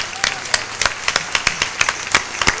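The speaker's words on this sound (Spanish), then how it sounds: "le damos un aplauso al Señor Jesús de Nazaret" Spanish-speaking church congregation applauding at a Bible sermon, a fast, even run of close hand claps with a light crowd murmur beneath.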